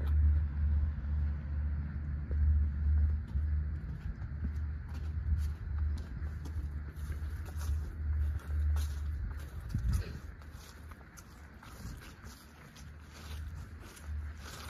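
City bus number 353 rumbles with a steady, low engine drone that stays constant and close throughout, with faint rattles on top.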